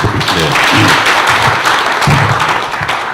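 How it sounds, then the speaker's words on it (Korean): Audience applause at a Liberty Korea Party policy meeting in Changwon on reviving the local economy, a dense, steady wash of clapping that holds loud for about three seconds, with a voice faintly audible underneath. "큰 박수 한번 해주시고"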